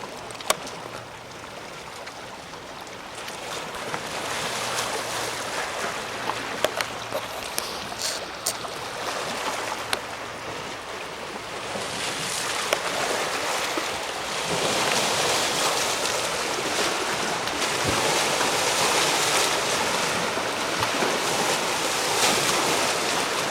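Waves wash along the shore of Lake Erie in a steady, moderately distant surge of surf, with wind gusting into the microphone and the wash swelling a little louder in the second half.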